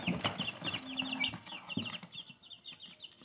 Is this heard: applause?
no